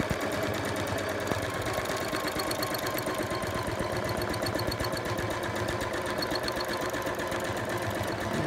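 A sewing machine runs steadily while quilting a granny square block, stitching in the ditch, a close, continuous fast mechanical chatter without any pause.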